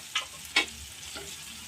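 Turmeric, chilli powder and green chillies hitting hot oil in a pan for chana paneer, with two short sharp sizzling bursts and then a low, faint crackle.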